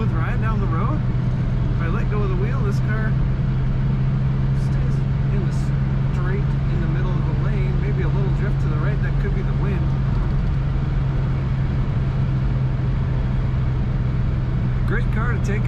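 A 1963 Chevrolet Corvair Monza 900 Spyder convertible cruises down the road with a steady low engine hum and road rumble throughout, while someone talks continuously over it.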